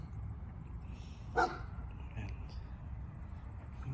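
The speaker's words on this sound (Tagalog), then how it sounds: "Ah, aso sa kabila." A single short dog bark sounds from a distance over steady background hum at an apple tree, faint and brief, with no other barking following.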